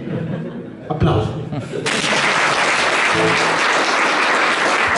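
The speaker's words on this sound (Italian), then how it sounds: "Applauso." Audience at a live concert by a band performing for Movimento per la Vita in Trento, breaking into broad, sustained applause after a brief burst of voices and laughter, clapping filling the room steadily.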